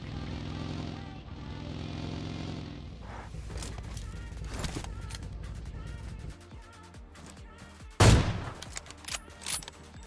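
AWM sniper rifle fire in PUBG Mobile, with one sharp, loud gunshot crack standing out against ongoing game noise and a few fainter bangs.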